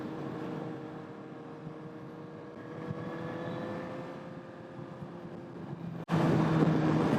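A 2022 Suzuki GSX-R 1000R being ridden, a steady engine hum with faint tonal whine under wind rush, then a sudden louder burst of engine and wind near the end.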